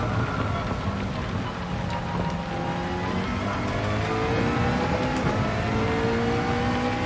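McLaren race car engine in Gran Turismo 7, a steady droning roar with shifting pitch as it revs and holds speed, loud and continuous throughout.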